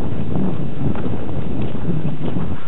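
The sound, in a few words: wind blowing snow along a winter mountain road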